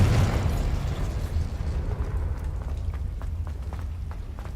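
An explosive spell detonating in the Hogwarts Legacy video game: a loud blast at the start that decays into a long rumbling tail scattered with small crackles and debris pops, no voices.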